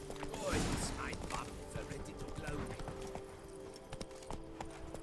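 Hooves of Geralt's horse Roach clip-clopping on the ground in The Witcher 3, a steady trotting rhythm heard close up while someone speaks over it.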